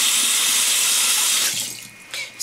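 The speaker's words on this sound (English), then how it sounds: "So let me just rinse this off." Water runs steadily from a tap as hair is rinsed under it, a loud, close rushing hiss that thins out and gurgles briefly near the end.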